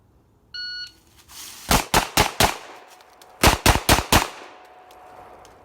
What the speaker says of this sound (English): Put 4 shot rounds to the body, 4 into the head.